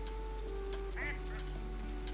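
Cartoonish duck quacks in a laid-back fantasy shop simulator game, a short cluster of two or three calls in the middle over a steady hum of game music.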